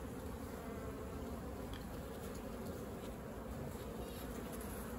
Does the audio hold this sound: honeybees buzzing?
yes